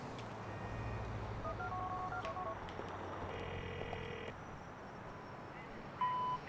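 A phone dialing a call in the video game GTA IV: a series of tonal dial beeps in short groups plays over a steady low background hum, ending in a louder beep, with faint talk underneath.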